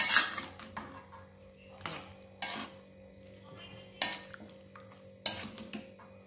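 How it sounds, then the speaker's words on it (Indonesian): Stir-fried water spinach is tossed in a pan, with sharp metallic scrapes and clanks of a utensil against the pan in an irregular rhythm, close and fairly quiet, over a faint low hum. "kita aduk ya."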